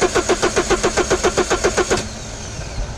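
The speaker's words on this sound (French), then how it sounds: "Sous l'action du démarreur." A diesel car engine cranks on its starter motor up close: about a dozen loud, even, rhythmic turning pulses over two seconds, then the cranking stops without the engine catching.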